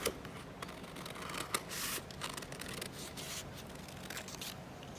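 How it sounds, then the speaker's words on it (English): Scissors cut through corset fabric with soft, continuous snipping and rustling, faint and close, with a few sharper snips along the way. "Okay, we'll cut it out this way."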